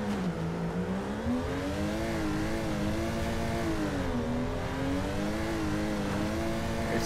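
A drift car engine in the video game Torque Drift, held in fourth gear, drones loud and steady with its pitch rising and falling through revs as the car swings around.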